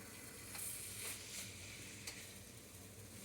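Root vegetables, including potatoes, stir-fried in sesame oil in a wok with a special wok spatula, making a soft, continuous sizzle with several light scraping strokes, faint and even throughout.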